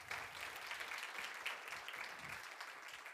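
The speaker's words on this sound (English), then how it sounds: "let's give him a round of applause" Audience applause welcoming Nedbank's CEO onto a conference stage, a steady wash of many hands clapping at moderate distance, sustained evenly for a few seconds without speech.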